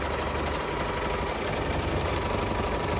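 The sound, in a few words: 10-needle embroidery machine stitching a t-shirt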